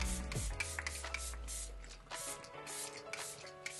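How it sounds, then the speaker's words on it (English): Locked In setting spray misted onto a face during a makeup routine: a few short, soft hissing bursts from the spray bottle, close up, over quiet background music. "I want to go back in with the Locked In Setting Spray"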